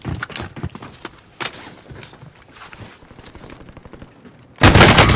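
Gunshots in Call of Duty Warzone: a mix of sharp cracks and bursts of varying loudness across the clip, ending in a loud, dense volley of fire, with no talking.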